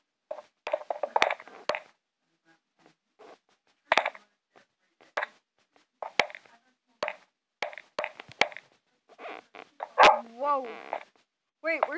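A dog in a video game barks repeatedly in short irregular bursts with brief growls, close and fairly loud, separated by pauses of silence.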